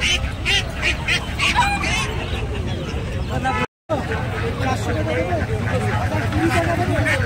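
Ducks quack repeatedly amid a busy outdoor crowd at a large rural market, Bantala Haat in Kolkata, with many voices chattering nearby throughout.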